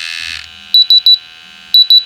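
Pump alarm on a wireless monitoring instrument sounds in loud, sharp electronic beeps: three quick beeps, a pause, then three more, with a brief hum at the start and no voices.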